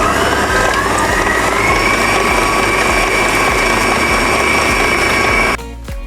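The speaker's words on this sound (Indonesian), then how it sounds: "Kemudian di mixer sampai mengembang kental dan berjejak." An electric mixer beats eggs, sugar and Bakerline SP Maxi 68 emulsifier into a thick batter with a loud, steady mechanical whir that drops off abruptly near the end.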